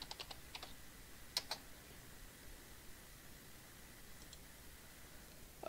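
Computer keyboard typing a username on a login screen, a few faint scattered keystrokes against a quiet hiss of background noise, with one slightly sharper click partway through.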